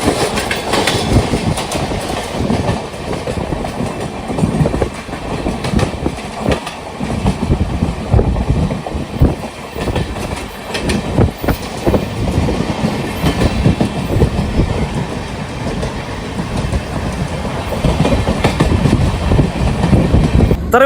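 Moving passenger train on an overnight rail journey toward Mumbai, heard from inside the coach as a continuous loud rumble with rhythmic clickety-clack of wheels over rail joints.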